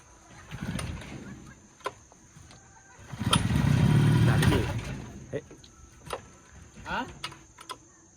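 An outboard boat engine cranks in one loud, rumbling burst of about a second and a half, followed by scattered clicks and knocks, with people talking nearby.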